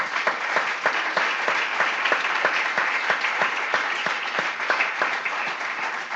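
A church congregation claps loudly and steadily, a dense even wash of applause from many hands in a reverberant hall that carries on without a break.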